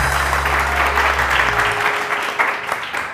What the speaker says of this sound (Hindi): बहुत सारी तालियां डॉक्टर साहब की।